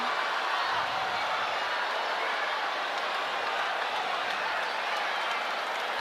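A packed basketball arena crowd in Montalban, Rizal, at a PBA Philippine Cup game between Magnolia and Rain or Shine, gives off a continuous broad roar of cheering and scattered applause at an even, loud level throughout.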